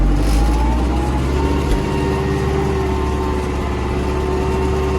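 An MTZ tractor engine labours steadily under load while plowing in a low gear, a loud continuous diesel drone with a heavy low rumble close by and no speech.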